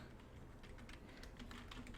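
Keys tapping on a computer keyboard during a Hangul word-processing lesson, a soft steady run of light clicks close by with no talking.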